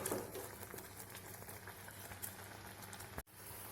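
Coconut paste for jackfruit-seed kalan boils in a pot, giving a faint, steady bubbling and popping simmer that breaks off briefly near the end.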